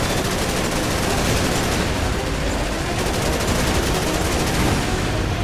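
Dense, continuous gunfire from the Resident Evil 6 game, a loud, unbroken fusillade of rapid shots filling the whole stretch.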